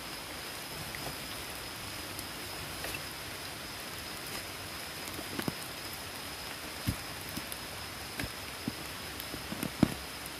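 Rain falls during a dig for termite mushrooms in sticky soil, making a soft, steady hiss with scattered faint drop ticks and no voices.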